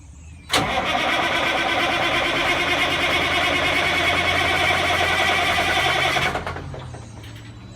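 A diesel engine in an M1078 military truck cranks with a sharp onset and catches, then runs loud and steady for several seconds, close by, before cutting off abruptly with a fading rumble.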